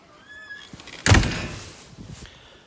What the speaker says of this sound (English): Got to open the door here.